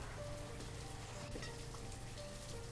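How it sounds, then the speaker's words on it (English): Steady rain in the city-building game Banished, a continuous soft hiss of falling drops with faint tonal game chimes underneath, heard alone. "it is raining"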